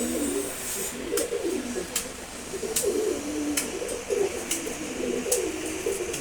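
Pigeons coo in soft, repeated low calls after a bath, with a few sharp clicks and light background noise, continuous and moderately close.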